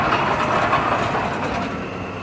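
A class 156 diesel train at Nottingham station makes a steady, loud rumble with faint clattering of wheels on track, continuous and close throughout.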